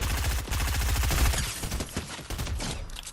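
Rapid automatic gunfire from a shooter video game, loud and dense, with bursts of shots rattling close together and hardly a break for about three seconds.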